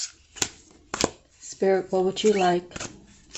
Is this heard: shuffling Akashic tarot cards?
yes